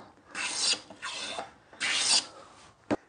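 A hand plane is shot along a timber edge to square it, giving three close rasping strokes with short pauses between them, then a single sharp knock.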